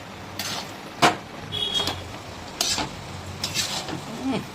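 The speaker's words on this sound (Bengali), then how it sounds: "এটাকে একবার এইভাবে চালিয়ে মিক্স করে দিচ্ছি" Mochar ghonto of banana flower and prawns being stirred and mixed in a pan, with a few sharp spatula scrapes and knocks against the metal over a faint background hiss, close and intermittent.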